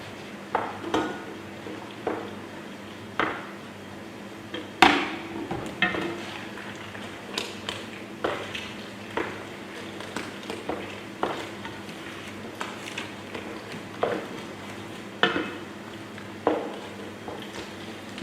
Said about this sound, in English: mix it through your pasta.